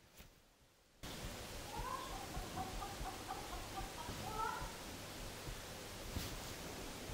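A person imitates a rooster's crow, giving two faint, drawn-out crowing calls that sit far back under a constant loud hiss.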